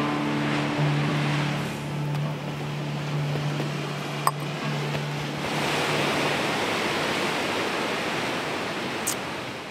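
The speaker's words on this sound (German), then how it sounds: "wenn diese Wellen auf die Felsen aufschlagen" Sea waves crash on rocks along the shore in a continuous loud roaring wash that swells and recedes, with a low tonal hum in the background early on and no speech.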